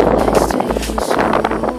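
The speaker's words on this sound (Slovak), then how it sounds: "Vietor." Wind blows hard across the microphone at a lakeside carp fishing competition, a continuous rumbling buffet with gusty swells.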